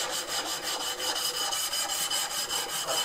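A chisel is rubbed back and forth on a coarse diamond sharpening stone, giving a steady, rhythmic rasping scrape with about a dozen close, even strokes and no talking.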